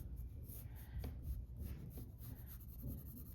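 A pencil lightly sketches a sugar skull on paper, giving faint, soft scratchy strokes in a loose, repeating rhythm close up over quiet background hum.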